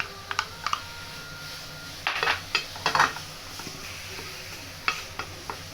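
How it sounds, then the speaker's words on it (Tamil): Curry leaves roasting in a pan, with dry clicking and rustling as a spatula stirs and taps against the metal, a few louder bursts of scraping over a quiet background and no talk. "அடுத்தது கருவேப்பிலை வறுத்து எடுத்து போகிறோம்."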